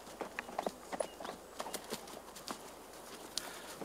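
Horse hooves clip-clop faintly, irregular soft knocks scattered over a few seconds on a quiet outdoor background, with no talk.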